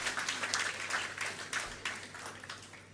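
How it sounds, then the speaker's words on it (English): Audience applause at a university address honoring the institution's president, a crowd clapping in a steady patter that swells and eases slightly over a few seconds, moderately loud and without talk. "Give a round of applause for that"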